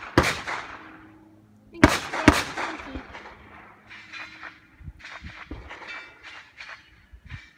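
Smith & Wesson .38 Special revolver fired outdoors, with several sharp loud reports that ring out and decay, the clearest pair close together near the middle, followed by fainter knocks and shuffling.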